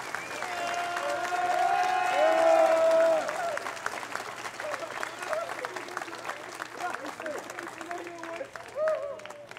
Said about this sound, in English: Please give the Corps of Cadets a vigorous round of applause for completing a successful school year.